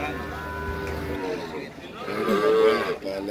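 Cattle low at a livestock market in El Salvador: a long moo, then after a short gap a second rising, loud bellow close by, set against a busy outdoor background.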